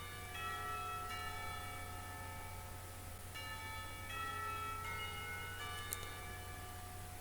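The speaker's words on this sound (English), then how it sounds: "The clock tower bells ring, signaling the end of the period" Clock tower bells in a visual novel game ring in several resonant, overlapping strikes that sustain and decay together over a steady low hum, with no voices.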